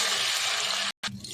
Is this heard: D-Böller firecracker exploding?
no